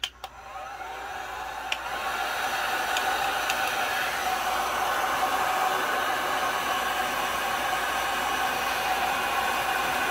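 A heat gun run on full fan with low heat blows steadily over fast-setting epoxy, a loud continuous airy whoosh that starts abruptly and holds without pause.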